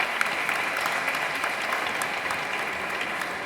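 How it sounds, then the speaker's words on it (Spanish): A lecture audience applauds a speaker in a full, even wash of many hands clapping that holds steady throughout. "un aplauso para Dora"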